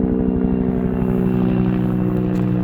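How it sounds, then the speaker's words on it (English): A steady, loud droning engine with a low rotor-like throb, constant throughout as an aircraft passes close overhead. "He's coming right over my head."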